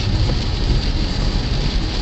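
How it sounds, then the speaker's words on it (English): Heavy rain falls on a moving car, a dense, steady hiss with a low road rumble underneath and no talking. "There's a bunch of rain."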